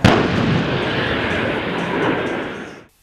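Artillery guns fire during army competition exercises, a loud sustained roar and rumble of continuous firing that fills the clip before cutting off abruptly near the end.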